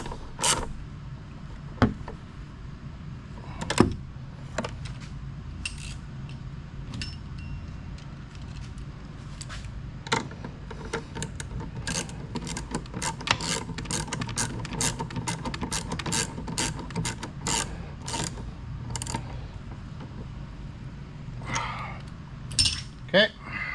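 A ratchet tightens bolts during an air-conditioning refresh on an International 4300 truck being converted into an RV. Rapid runs of sharp clicks come in uneven bursts, steady and close, with scattered metallic knocks and no talking.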